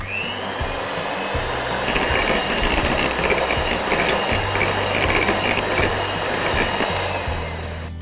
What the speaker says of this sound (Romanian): Bat smântâna pentru frișcă.